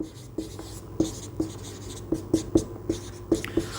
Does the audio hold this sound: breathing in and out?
no